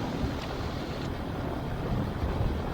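Light aircraft engine running steadily during pre-flight power and magneto checks, a dense continuous drone with wind-like noise, loud and unbroken with no talk.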